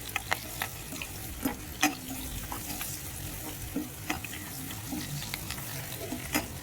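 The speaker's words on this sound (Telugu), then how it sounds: "కొంచెం ఆనియన్స్, పచ్చిమిర్చి బాగా కలర్ వచ్చే వరకు వేయించుకోవాలి" Onions and green chillies frying in oil with okra for a coconut-spiced okra fry, a soft sizzle broken by frequent irregular spatula scrapes and taps on the pan.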